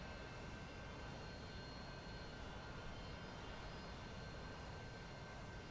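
A Harrier jet roars through flight in a video game, a steady, broadband engine rush with a thin high whine running through it, unbroken and even for the whole stretch, with no voices.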